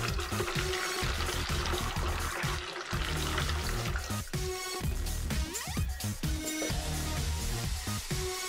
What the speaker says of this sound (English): add the water here.